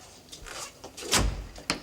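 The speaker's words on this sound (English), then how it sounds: "Shut the door." A door is shut indoors with a short shuffle of movement and then a firm thud, followed by a smaller knock, all close by.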